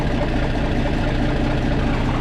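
A Minneapolis Moline M670 Super diesel tractor, said to carry a turbo, idles steadily with a deep, dense rumble, loud and close, unbroken throughout.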